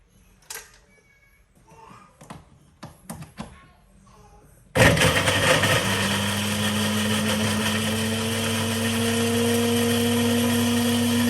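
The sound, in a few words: electric kitchen blender running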